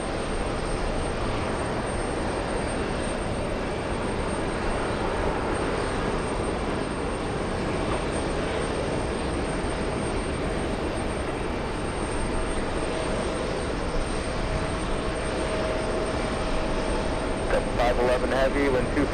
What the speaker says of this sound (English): Looks like we have a freighter. There it is. Okay, so that's 767.